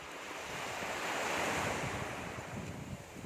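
Rough sea waves wash in at Cambagnuio beach, a continuous roaring surf that swells and recedes, mixed with buffeting wind against the microphone and no voices.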